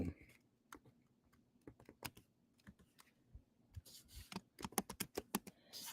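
Rapid bursts of clicking keystrokes on a computer keyboard as names are typed in, close and quiet, with irregular rhythm and short pauses, growing busier toward the end.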